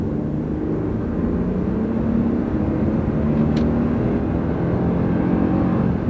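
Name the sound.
Toyota Tundra accelerating hard in 3rd gear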